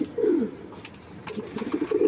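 A racer pigeon coos up close, a low throaty burble repeated in two short phrases, with faint rustling in between and no voices.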